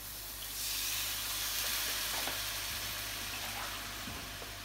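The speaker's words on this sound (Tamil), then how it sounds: "கொஞ்சமாக தண்ணி ஊற்றணும்." Steady hissing sizzle as a little water hits a hot pan of onion and tomato mixture seasoned with turmeric and salt, rising sharply then holding as a broad, fairly loud wash with faint low hum beneath.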